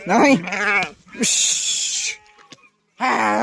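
Sheep bleat loudly and close by during washing, several wavering calls in a row separated by brief pauses, with some splashing and handling noise between them.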